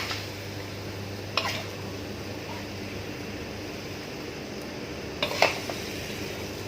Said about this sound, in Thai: เสิร์ฟขึ้นมาใส่จานเลยครับ